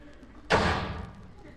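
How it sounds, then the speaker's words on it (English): A door slams once during a live reading, a hard close thud with a brief ringing decay that fades over about half a second, standing alone after a quiet lead-in. "We need a door slam."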